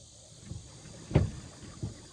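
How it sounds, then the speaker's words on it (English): A paddle boat is turned around on the water during a bass fishing outing, with three soft, close paddle-and-water sloshes spaced about half a second apart, the middle one strongest, over faint outdoor background. "Alright, let me spin this boat around real quick."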